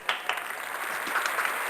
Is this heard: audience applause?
yes